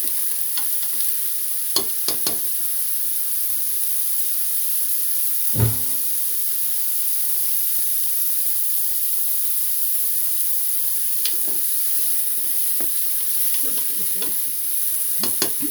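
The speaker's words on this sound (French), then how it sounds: "je vais mettre les petites saucisses, les faire revenir un petit peu" Small knack sausages fry with shallots in a pan under a constant high sizzle, with occasional clacks and scraping stirs from a utensil and no talk.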